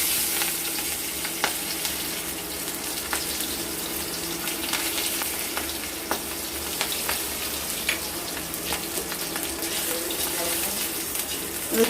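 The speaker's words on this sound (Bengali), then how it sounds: "তেলটা গরম হয়ে গেছে, এবার আমরা রসুনগুলো দিয়ে দেবো।" Garlic frying in hot mustard oil in a wok while cooking sweet jute greens, a steady bright sizzle with scattered crackles and pops running throughout at close range, no talking.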